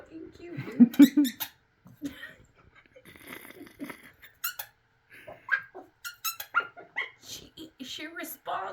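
A puppy reacts to squeaky sounds with soft squeaks and whimpers close by, mixed with a person's voice imitating the squeaks, in short bursts.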